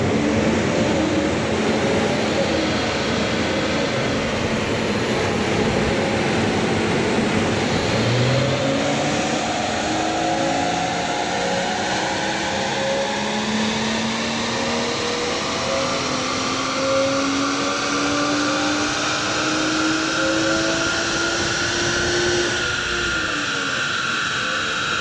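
BMW 540i on a dyno during a Stage 2 mapping base run at about 15 PSI boost, a steady loud engine drone with rising harmonics as revs climb through the pull, continuous and close.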